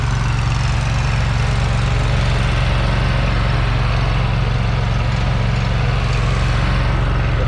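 A Walker mower engine runs steadily at a constant idle with a low, continuous drone and a slight knock. It is close and loud and stays unchanged throughout, with no talking.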